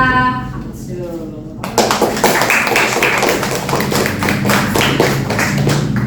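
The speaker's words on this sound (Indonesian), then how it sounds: "tepuk tangan untuk kelompok 3" A classroom of students bursts into steady, dense clapping for a group that has just finished, following a moment of talk at the start, with the applause continuing loud and busy to the end.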